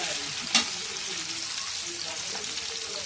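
Green chillies sizzle in a hot frying pan while chow mein is cooked at home: a steady, fairly quiet hiss with a single sharp clink just after the start.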